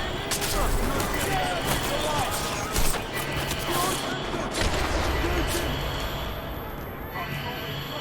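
Gunfire from the video game Deus Ex: Mankind Divided, a steady stream of rapid shots and impacts, moderately loud, with a brief louder hit partway through and game noise underneath.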